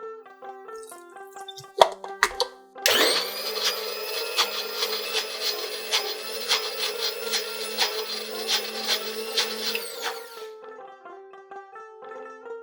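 Poppy seeds ground with green chillies, a piece of ginger, salt, turmeric and a little water in an electric mixer grinder, a loud steady whirring grind running for several seconds, with brief clatter before and after.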